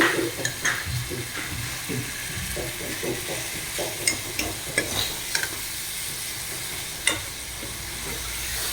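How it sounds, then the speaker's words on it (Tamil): Onions sauté in a pan for fish curry, a soft continuous sizzle broken by repeated scraping stirs with a few sharper knocks of the utensil against the pan, close up. "வெங்காயம் நல்லா வதங்கிருச்சு"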